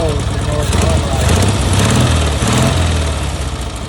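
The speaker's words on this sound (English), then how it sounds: "it has never really run this good, but it has to have the choke almost closed in order to run right" A Cushman Truckster's small engine runs loud and close with the choke almost closed, keeping a rough, steady idle rumble while a voice talks over it.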